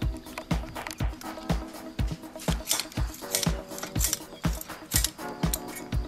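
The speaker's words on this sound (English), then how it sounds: "And then we just snip off the rest." Cutters snip off excess lock wire in a quick series of about a dozen sharp metallic clicks, evenly spaced and close, with faint clinks between them.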